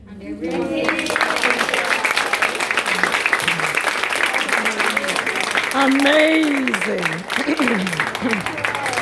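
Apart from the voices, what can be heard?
audience applause for speaker Rebecca Wong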